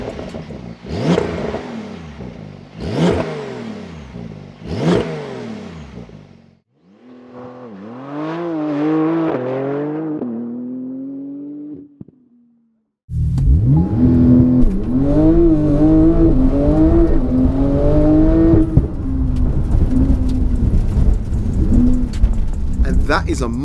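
Porsche 911 Turbo S (992) engine, close and loud: three sharp revs, then a rising whine through several gears as it accelerates, a brief pause, and another hard full-throttle launch that roars on to the end.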